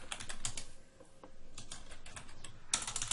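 Fast typing on a computer keyboard during a Heroes of the Storm match, a close run of crisp key clicks with short pauses and a louder burst near the end.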